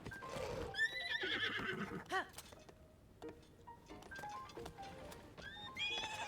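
In Zelda: Tears of the Kingdom, a horse neighs loudly with a long whinny, followed by clip-clopping hooves and further snorts and whinnies, close and without talk.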